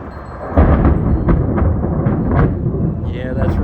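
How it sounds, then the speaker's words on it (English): Loud rumbling thunder rolls close overhead during a lightning storm in Pekin, a long sustained boom with a few sharper cracks, while people react and talk over it. "It's that lightning and then thunder that's only a second apart."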